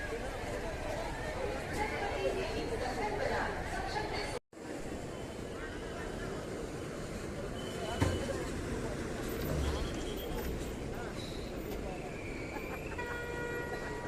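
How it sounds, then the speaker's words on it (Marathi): A dense crowd fills Pandharpur bus stand on Ekadashi, a constant murmur of many voices with buses and engine noise around, someone talking over the hubbub and a brief horn or tone near the end. "गर्दी किती गाडी गर्दी आहे भयंकर"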